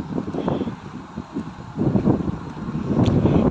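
Steady gusts of wind buffet the microphone throughout, with rumbling low noise that swells and fades, heard alone without talking.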